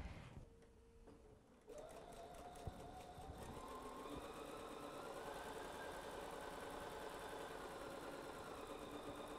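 Sewing machine stitching fabric for a pieced table runner, a steady close mechanical whir with rapid needle rattle that starts after a brief quiet moment and runs continuously.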